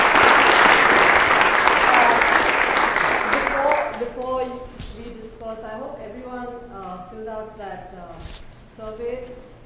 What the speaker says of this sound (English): So if there are no more questions, a round of applause.